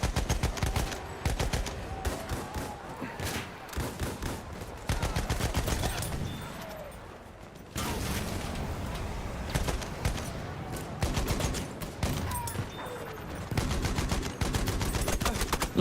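Rifle gunfire in a first-person shooter video game: bursts and tapped shots crackle in rapid, uneven clusters, loud and close, with brief lulls and a dense fight mix around them.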